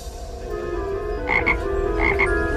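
A small toad croaks in short repeated bursts, two clear pairs of calls close by over a steady background hum.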